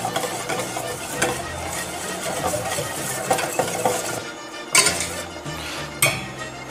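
Sugar and cornstarch whisked in a bowl with a balloon whisk, a steady scraping, clinking stir with a few sharper knocks against the bowl rim near the end.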